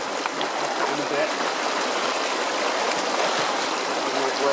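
Water rushes steadily over rocks and bedrock in a stream where sediment is being pumped out during gold prospecting, a close, continuous broadband flow without pauses.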